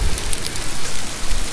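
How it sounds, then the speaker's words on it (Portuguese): Hail falls with heavy rain onto a new sidewalk outdoors, a dense, steady, close patter of hard drops with no voices. "Granizo caindo, galera."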